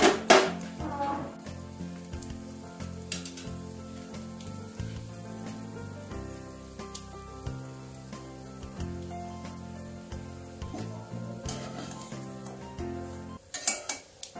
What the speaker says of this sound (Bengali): বড়াগুলো আমার একদিক ভাজা হয়ে গেছে, আমি বড়াগুলোকে উল্টে দিয়েছি।